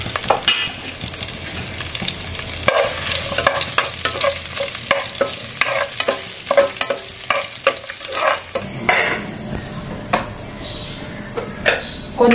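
Four chopped small onions sizzle in hot oil with cinnamon and fennel while being stirred in a pan, with steady frying and repeated scraping stirs up close, as the tempering for a country chicken rasam.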